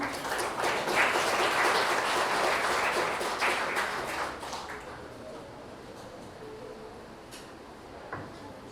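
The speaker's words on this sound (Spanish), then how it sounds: "Los recibimos, por favor, con fuertes palmas." Applause from a seminar audience at the Casona de San Marcos greets musicians, a dense wash of clapping that holds steady for several seconds before thinning and fading into a quieter room.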